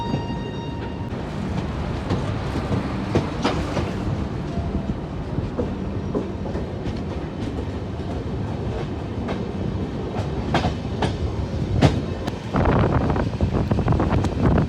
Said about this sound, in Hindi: ट्रेन हमारी चल चुकी है गुलदर रेलवे स्टेशन से